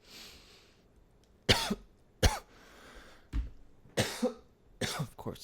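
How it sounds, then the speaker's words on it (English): A person coughs hard after smoking, five harsh, separate coughs spaced about a second apart. The coughs are close and loud over a quiet background, with no speech. "Of course, always gotta make me cough"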